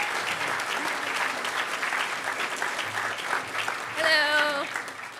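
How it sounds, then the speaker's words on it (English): Audience applause at the Hackers On Planet Earth 9 closing ceremony, a steady broad wash of clapping from a large crowd that swells near the end with a short whistle or cheer. "Give her a huge round of applause."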